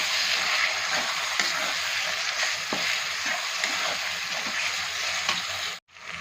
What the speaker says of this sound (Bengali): এরপর এটা আমি ভেজে নেব। ভালো করে ভেজে নেবেন।